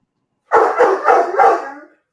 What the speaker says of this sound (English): who uh dogs is barking?